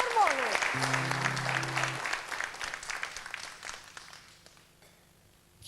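Applause from an audience greeting a singer bursts out loudly at first, then thins and fades over several seconds into near quiet, with a low sustained tone early on.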